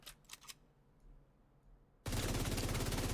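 A few faint clicks, then a second of near silence before a loud, sustained burst of rapid automatic gunfire begins in the video game The Division 2 and continues to the end.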